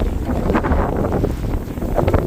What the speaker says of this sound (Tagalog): Hala, hangin, ang lakas.